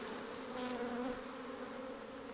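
Live honey bees buzzing during their removal from a chimney, a dense continuous drone of many insects nearby with a few individual bees zipping close past.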